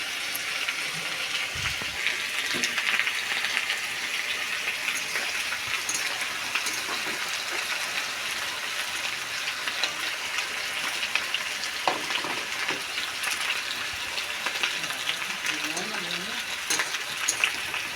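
Onions frying in a pan for a chicken curry with Malabar spinach stems, a steady close sizzle and hiss with occasional stirring scrapes, continuing throughout with no talk.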